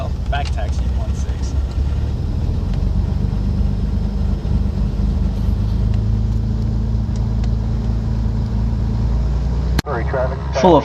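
A Cessna 310 twin-engine airplane taxis for departure, its engines droning steadily and loudly close by with a continuous low throb, while a voice talks over the engine noise throughout.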